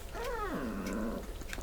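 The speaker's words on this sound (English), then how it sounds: "That's my dog, she wants something" A dog lets out a close, low growl that bends into a throaty grumble and trails off after about a second, quiet and alone in a kitchen.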